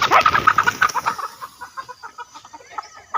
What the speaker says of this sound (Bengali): মুরগিগুলা সরষা খেতে যাচ্ছে